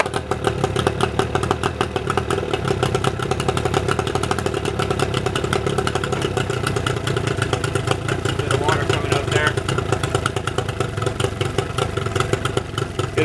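A Yamaha 15 HP two-stroke outboard on a 14-foot boat runs at a steady, rattly idle while warming up, its buzzing drone continuous and close throughout.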